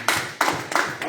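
A church congregation applauding, with four loud, evenly spaced claps at close range and no talk over them.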